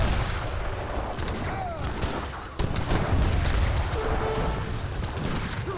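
Leather cannons firing in Age of Empires 3: Definitive Edition, a dense battle din of repeated cannon booms and musket fire rolling continuously, with a sharp louder burst midway.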